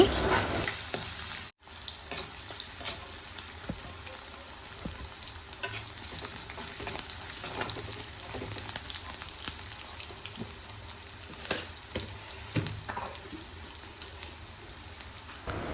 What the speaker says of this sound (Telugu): ఆనియన్ కొద్దిగా ఫ్రై అయిన తర్వాత ముందుగా దంచి పెట్టుకున్న అల్లం, చిన్నుల్లిపాయలను యాడ్ చేసుకొని ఫ్రై చేసుకోవాలి